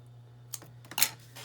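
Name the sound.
small scissors cutting paper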